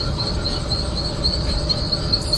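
A train running in a video game, a steady rolling rumble with a thin repeating high squeal on top, continuous and close, no speech.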